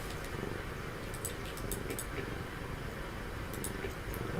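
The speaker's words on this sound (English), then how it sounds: "You can hear him purring all the way across the room" A huge 25-pound orange cat purring, a low, rumbling, steady purr pulsing continuously across the room, with faint scattered clicks over it.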